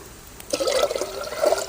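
Water pours into a pot for sambar after a brief pause, a close, gurgling splash that swells toward the end.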